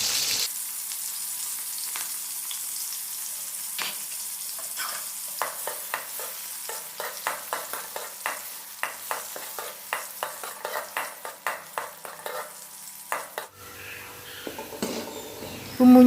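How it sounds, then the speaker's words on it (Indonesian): Sliced spice paste stir-fries in a pan for a kangkung and instant noodle stir-fry. A steady soft sizzle runs underneath while a spatula gives a quickening series of scrapes and taps close by, with no voices. "Masukkan bumbu-bumbu yang sudah kita iris-iris tadi, kita tumis hingga baunya harum ya."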